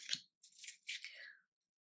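Tarot cards being shuffled by hand in short papery bursts, a quick snap followed by two longer riffling swishes, close and fairly quiet with no talking.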